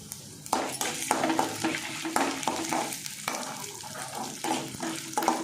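Urad dal and red chillies fry in a pan for ginger chutney, a steady close sizzle broken by repeated stirring scrapes and clinks of a utensil against the pan.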